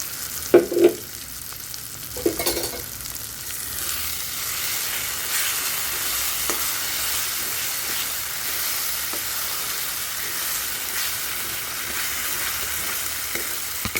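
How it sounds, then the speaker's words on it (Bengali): Ground spice paste sizzles and fries in hot oil while being stirred for a rohu fish curry, with a steady hiss throughout and a few scraping stirs near the start and no voices. "এবার এই যে বেটে নিয়েছি এইটা এখন এর সঙ্গে দিয়ে আবারও ভালো করে কষিয়ে নেব।"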